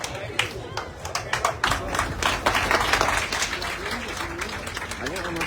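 Audience clapping after a speech at a Liberian electricity corporation meeting, scattered sharp claps building into steady applause under a murmur of voices and talk.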